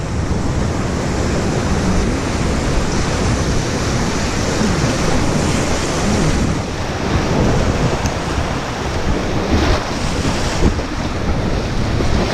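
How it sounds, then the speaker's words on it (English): Rushing whitewater of a river wave-train rapid at high water roars steadily and loudly, with wind buffeting the microphone throughout and no voices. "the wave train is fun with the big water"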